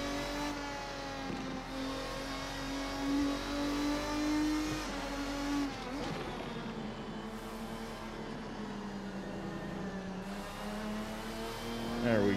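Race car engine in the Assetto Corsa sim, a GT1 championship car at Road America, drones steadily as it holds and shifts revs through corners, loud and continuous with a brief dip and climb midway.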